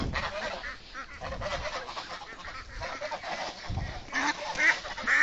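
Village ducks on a Bangladeshi duck farm give a flurry of overlapping nasal quacks and honking calls, fairly close and continuous, with a louder burst near the end.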